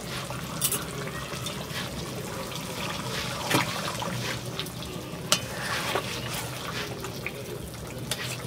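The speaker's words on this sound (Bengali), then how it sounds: "ভালো করে কষে নেব" Chicken biryani masala with mint leaves sautés in a pan, a steady close sizzle broken by scraping stirs and a few sharp clinks from the spoon.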